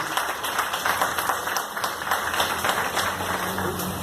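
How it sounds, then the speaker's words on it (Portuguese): A church congregation claps in a dense, steady burst of applause that continues evenly throughout, moderately loud with no voices standing out. "Se você crê, aplauda mais uma vez o nome do Senhor Jesus."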